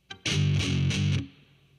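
Palm-muted, heavily distorted heavy metal electric guitar chord on the bottom three strings, a short choppy chug of a few muted hits lasting about a second, loud and close, then cutting off.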